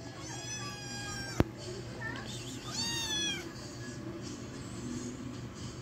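A cat meows a few times close by, drawn-out and high-pitched, over a steady low mechanical hum, with a sharp click partway through.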